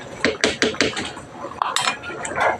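Pork giniling with brown sugar is stirred in a pan with a utensil. Quick, rhythmic scraping strokes clatter against the metal, close and clear, then turn into looser, irregular scrapes.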